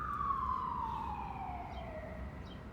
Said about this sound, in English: You hear the fire truck or the ambulance, whatever that is.